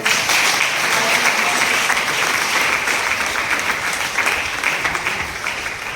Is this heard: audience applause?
yes